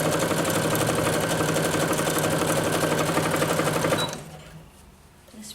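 A sewing machine stitches a tank top at a fast, even pace for about four seconds, close and loud with a rapid mechanical whir. It then stops abruptly, leaving near silence.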